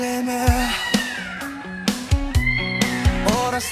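A mother cat meows repeatedly at feeding time, several rising and falling calls close by, mixed with music and a few soft thumps.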